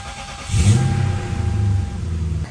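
A Lexus LS430 engine cranks and catches at about half a second, then settles into a steady, fairly loud low rumble close by with no talk.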